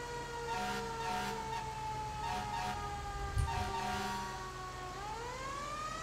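A fire truck siren wails continuously in the video game GTA 5, loud and near, its pitch sweeping up and down in long cycles over engine and road noise.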